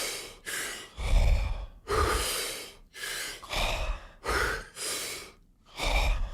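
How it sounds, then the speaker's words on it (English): Deep, forceful breaths during a breathwork exercise, with a run of long, loud inhales and exhales in a slow, even rhythm, close up with no talking. "and then you exhale and just relax"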